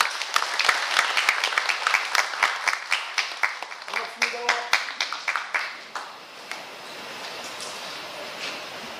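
Audience at a formal provincial council event applauding an official's introduction, a crowd's sharp dense clapping that gradually thins and fades out toward the end.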